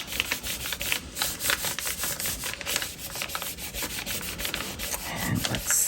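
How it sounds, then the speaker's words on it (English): Paper is rubbed over an inked stamp by hand, a steady close scratchy friction of continuous back-and-forth strokes with no talking. "And rub."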